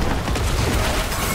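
Corpse explosions from a summoner Necromancer in Diablo 4 burst in a dense, continuous barrage of booming, crackling blasts, loud and close throughout.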